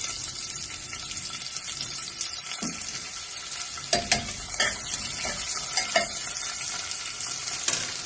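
Sliced onions frying in oil inside a pressure cooker for mutton gravy, a constant sizzle with scraping stirs and a few metallic knocks against the pot.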